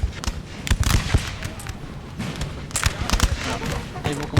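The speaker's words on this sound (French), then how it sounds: "Et ils vont commencer à ouvrir le feu" Musket and rifle volleys crackle in a Napoleon Total War III battle around a house held by grenadiers, with irregular clusters of sharp, mid-distance shots under a voice.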